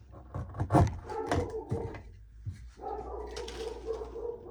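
A pet dog barks and whimpers indoors in a workshop with plastic dust walls as the mail carrier approaches the door, a few close bursts of barking alone with no talk.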